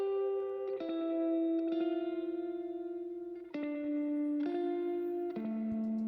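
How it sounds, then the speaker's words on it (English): Electric guitar played through a spring reverb emulation in a surf style, a handful of sustained notes and chord changes ringing out with a splashy, echoing tail, loud and without any talking. "I used it in line like I would a spring reverb pedal"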